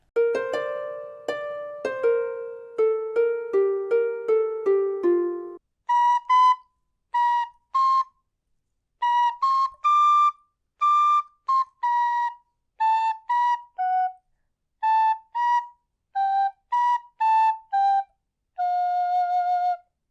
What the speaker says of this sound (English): I'll listen to the first phrase of the music and I'll try and find those notes on my tin whistle